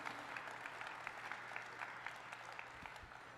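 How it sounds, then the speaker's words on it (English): Steady applause from an awards ceremony audience at the ENNIE tabletop gaming awards, continuous crowd clapping heard faintly and at a distance. "So please give them a huge round of applause for their modesty"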